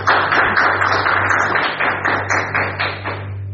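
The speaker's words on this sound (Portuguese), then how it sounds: "Palmas para Ele novamente." A church congregation claps together in sustained applause, a dense, steady patter of many hands filling the room over a low continuous hum.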